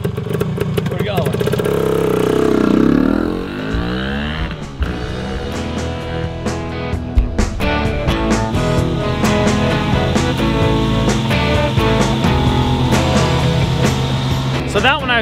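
A Reelmaster 3100D diesel reel mower engine runs steadily throughout, a loud close drone under people talking, with a rising pass early on and occasional clunks.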